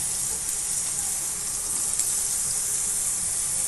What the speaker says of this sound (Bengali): আমি একটা একটা করে বেগুন দিয়ে দিচ্ছি।